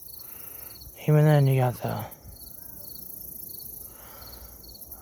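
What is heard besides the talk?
giant katydids chirping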